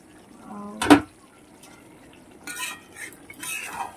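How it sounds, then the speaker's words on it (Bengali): A lid comes off a pot of dam chicken cooking in oil with onion gravy, giving one loud close metallic clank followed by softer rattles and scrapes. "ঢাকনাটা খুলছি।"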